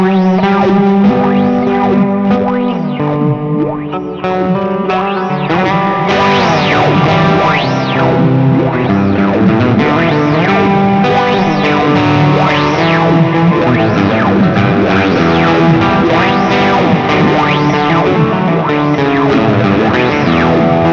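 Electric guitar run through an Old Blood Noise Procession pedal, each played note triggering a swept filter that opens and closes, heard loud and continuous with chorus-like wobble and echo tails, no talking.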